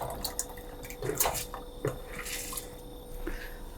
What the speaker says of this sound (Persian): برنجم رو که آب اون رو کامل از قبل گرفتم بهش اضافه میکنم